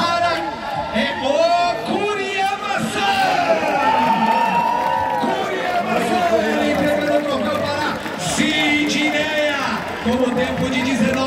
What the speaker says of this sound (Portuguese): Palmas para Sidney, primeira colocada.